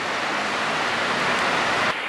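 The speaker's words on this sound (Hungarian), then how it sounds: "esik az eső minden felé" Rain falling all around outside near a motorboat, a dense, steady hiss of broadband noise, loud and continuous with no voices.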